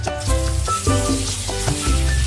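Fish sizzling steadily in hot oil, a loud, close, continuous crackle with small bubbling pops, in an outdoor cooking setting in El Salvador, with no talking.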